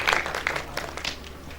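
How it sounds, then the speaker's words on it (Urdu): Brief burst of audience clapping at a literary discussion event, scattered hand claps that quickly thin out, moderately faint. "آپ کی بھرپور تالیوں میں دعوت ہوں گا"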